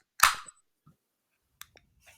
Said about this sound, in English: the patented Tim Dipple two-step can pop